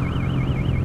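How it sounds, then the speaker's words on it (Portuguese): A motorcycle's warning beeper sounds close and loud, a continuous warbling electronic tone rising and falling in a steady rhythm over low engine rumble. "a moto tava apitando essa porra"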